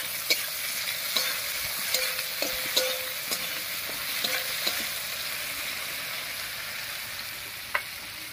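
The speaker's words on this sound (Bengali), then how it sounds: "পেঁয়াজ আর মাছটা একসঙ্গে ভাজা হয়ে যাবে।" Chopped onion and soaked dried fish fry in hot oil with a steady loud sizzle, while a spatula scrapes and stirs the pan in scattered light clicks and one sharper knock.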